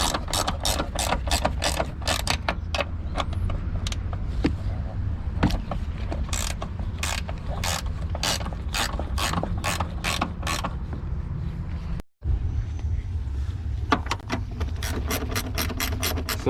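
A hand ratchet clicks repeatedly while loosening car door bolts, with bursts of sharp metallic ticks in an uneven rhythm and a brief pause near the end before the clicking resumes.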